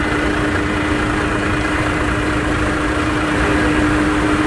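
UD Trucks MK6 tipper truck runs its engine at a steady, loud idle with a constant low drone and hum as the tipper body raises, unchanging throughout.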